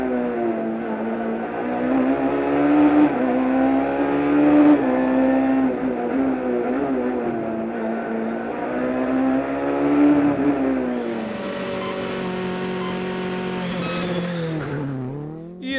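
A Ford Fiesta R5 rally car driven by Diogo Salvi roars loudly, its engine pitch rising and falling through gear changes before dropping sharply, with a brief tire scrub near the end.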